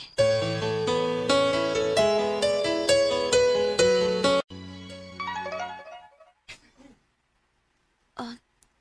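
A phone plays a melodic notification tone, a bright run of chiming notes lasting several seconds before cutting off, followed by a quieter trailing passage and a few brief isolated sounds amid near silence.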